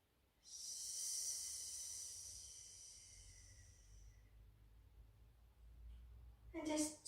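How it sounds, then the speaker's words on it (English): One slow, hissing exhalation during a relaxing yoga session, close and soft, fading out over about four seconds, followed by a brief voice near the end. "and breathing out."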